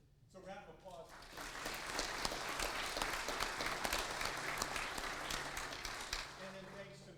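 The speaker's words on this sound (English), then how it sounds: "So round of applause." An audience at a candidate forum breaks into steady applause, dense and sustained clapping that rises quickly and holds at an even level before easing slightly at the end.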